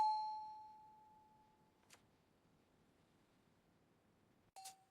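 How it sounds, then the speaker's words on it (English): A clear electronic doorbell chime rings and slowly fades, then after a quiet pause another sharp ding sounds, close and loud against near silence. "rings the doorbell."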